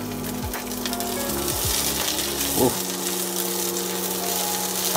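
Onion dropped into hot oil already cooking garlic and ginger in a pan, giving a loud, close, steady sizzle with a brief clatter as it goes in.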